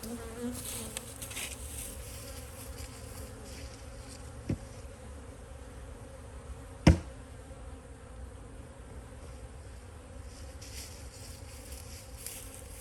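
Steady, dense buzzing of many honeybees close by as they are shaken off hive boards, continuous throughout, with a couple of brief knocks partway through.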